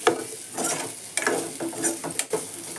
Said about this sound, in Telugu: మంచిగా ఆలు ఫ్రై అయిపోయాయి. ఇంకాస్త వేగాలి.